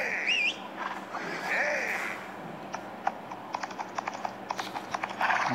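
Horse hooves clip-clop in the Old West Gunfighter video game, a run of light, fairly quick hoofbeats in the second half, following a brief electronic game tone and some background noise.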